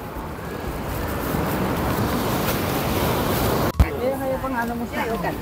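Steady roaring wind buffets the microphone beside crashing surf at Yehliu Geopark on Taiwan's north coast, loud and continuous, then a sharp bump before faint voices emerge under the gusts.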